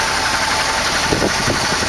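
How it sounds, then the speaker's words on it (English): A 1986 Ford F-250 engine idles with a newly fitted Holley carburetor, giving a steady, fairly loud mid-range rumble with a faint knocking texture close by, and no voices over it. "So here we are, the whole engine running, and it started, and we put the new carburetor that's under that white thing over there"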